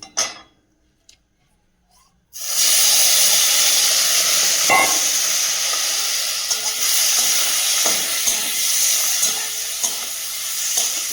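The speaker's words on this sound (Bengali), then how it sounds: "তেলটা গরম হয়ে গেছে এর মধ্যে দিয়ে দিয়েছি হলুদ আর একটু নুন দিয়েছি চিংড়িটা আমি সুন্দর করে ভেজে নেবো" Prawns tossed with turmeric and salt into hot oil in a wok erupt into a loud, steady sizzle after a quiet start, with occasional stirring scrapes and no voices.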